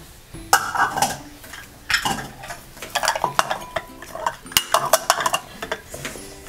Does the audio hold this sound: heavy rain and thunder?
no